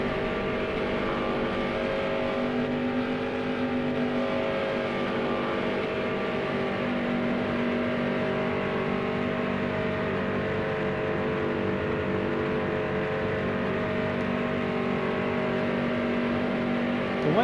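A NASCAR stock car engine drones at steady high revs through a Daytona qualifying lap in NASCAR Heat Evolution, a continuous loud sustained roar with no gear changes or pauses.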